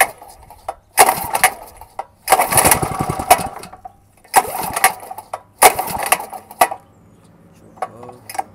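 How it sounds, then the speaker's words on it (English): A 5 hp Kawasaki mini bike engine cold starting, heard as several loud close bursts of sputtering engine noise with short quiet gaps between them as it catches and dies, then fades to a faint idle-like rumble. "This motor usually starts fairly easy."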